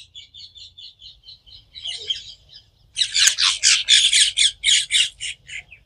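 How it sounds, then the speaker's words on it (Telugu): Birds squawk and call close by in a terrace vegetable garden: a run of quick repeated chirps, then a louder burst of harsh, rhythmic squawks, with no talking. "పక్షులు ఎట్లా అరుస్తున్నాయి చూడండి"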